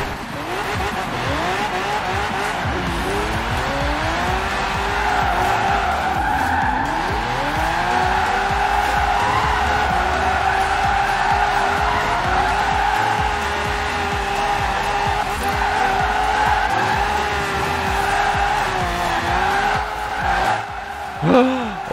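Loud, close car engine from the Forza Horizon 4 video game holds a steady drone while the tires squeal and skid continuously through a drift, with pitch swoops as the revs shift.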